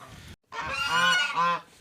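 Two loud, drawn-out goose honks close by, the first short and the second longer, with no other sounds.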